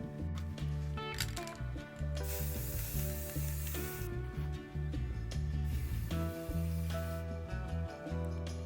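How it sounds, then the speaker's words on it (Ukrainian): Matte paint sprays from an aerosol can in two long hissing bursts, steady and fairly loud, with continuous music playing throughout. "І зараз взяла матову фарбу, буду фарбувати балончик."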